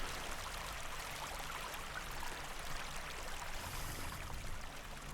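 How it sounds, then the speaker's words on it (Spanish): A river ambience effect, turned down in volume, runs as a steady broadband rush of flowing water, even and continuous throughout with no voices. "Entonces el río lo vamos a bajar un poco porque está muy fuerte."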